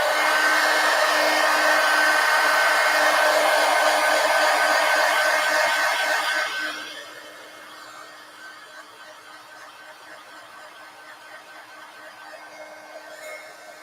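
A hair dryer blowing on thick gold paint in an art journal, a loud steady whir for about seven seconds that then drops to a soft low hum at a lower setting.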